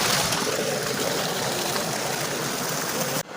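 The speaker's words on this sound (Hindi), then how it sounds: "अभी देखिए इतना स्पीड से पानी आ रहा है" Water gushes fast and loud through an irrigation setup on a banana farm, a dense, steady rushing roar that runs continuously and close before cutting off abruptly at the end.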